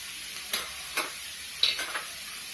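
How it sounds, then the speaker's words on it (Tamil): Green chillies and curry leaves sautéing with onions in a pan for Tamil vada curry, a soft steady sizzle broken by a few light spoon scrapes and taps, close and moderately quiet. "இதெல்லாம் போட்டு நல்லா வதக்கிக்கோங்க."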